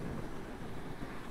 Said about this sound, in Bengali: বাইক সরিয়ে দিচ্ছে এত হাওয়া।